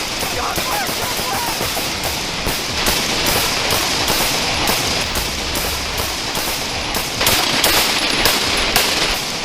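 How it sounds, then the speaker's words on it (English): Dense, sustained volleys of gunfire from a police shootout, with officers returning fire at a suspect during a roadside stop; rapid overlapping shots rattle loud and close throughout, with no clear pauses and faint voices buried beneath. "4 officers returned fire"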